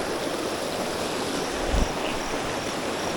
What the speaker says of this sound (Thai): เป็น ที่น้ำไหลลงไปในเขื่อนนะครับ